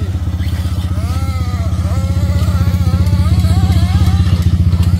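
Nitro RC buggy engine buzzing continuously on an outdoor track with a Kyosho MP9, T2M RS3, NXT XR or Serpent SRX8, a loud high-pitched whine rising and falling as the throttle changes, close and steady.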